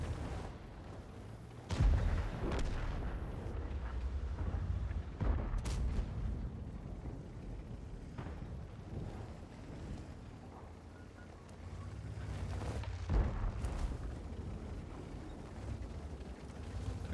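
Tank cannon shots boom in an armored combat game, several sharp heavy blasts spaced seconds apart over a rumbling engine and battlefield backdrop.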